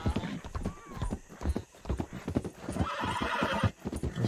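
In Red Dead Redemption 2, a horse whinnies while its hooves clip-clop in a steady rhythm, near and clear, with someone speaking over the sounds.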